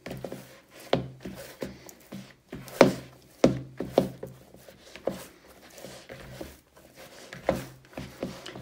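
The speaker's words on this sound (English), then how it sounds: "Now I'm going to start folding it in. Folding and pushing." Brioche dough being folded and pushed by hand to work in butter, with a series of soft, close thumps and slaps at an irregular pace, some sharper than others.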